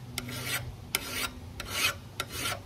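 A metal file rasps against a lawn mower blade in four steady, evenly spaced strokes, close and fairly loud, with no talking.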